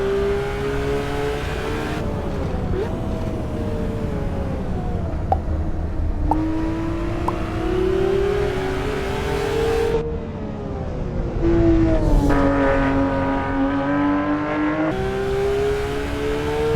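A rear-engine race car driven hard through corners, its engine droning loudly and continuously with pitch rising and falling through repeated upshifts, braking and acceleration.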